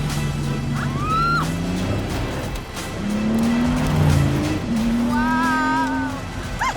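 A Pagani Huayra BC supercar driven hard by a test driver, the engine howling up through rising revs between gear changes, loud and close, with brief tire squeals cutting in.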